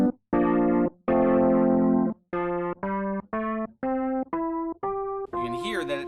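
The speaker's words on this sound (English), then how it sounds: "as if you have a giant spinning speaker" Eventide Rotary app on iPad running a rotary speaker effect on a series of sustained keyboard notes and chords, each held then cut, with swirling, spinning modulation and rising brightness toward the end.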